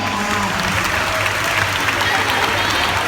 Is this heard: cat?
no